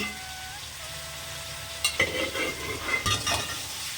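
Food sautéing in a pan sizzles steadily while a high whine fades early. Then a spoon stirs and scrapes the pan in a few bursts of crackling, close and clear.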